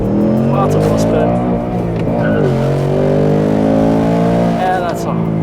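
A 2025 Ford Mustang GT launches hard from launch control, its V8 roaring loud and close as it climbs through revs with rapidly rising, wavering pitch during heavy wheel spin, a voice talking over the engine.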